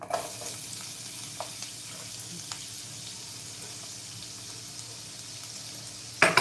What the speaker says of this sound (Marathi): त्यानंतर कांदा घालूया बारीक चिरलेला एक